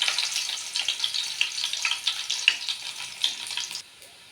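Crushed garlic hits hot oil in a pan for an egg curry, crackling and sizzling close by in irregular bursts before dying down near the end.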